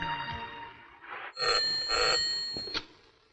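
A telephone rings in a Hindi film scene, bright bell-like trills in several bursts over a soft background, fairly clear and unaccompanied by talk.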